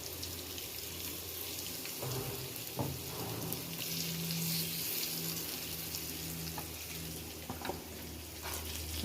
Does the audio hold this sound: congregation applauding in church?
no